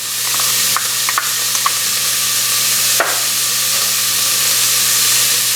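Ground venison and jalapenos fry in a 4-quart pot with a steady, loud sizzle and hiss. A spoon stirs through them with a few scattered clinks and scrapes, and no voices are heard.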